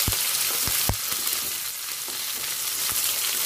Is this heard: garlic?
yes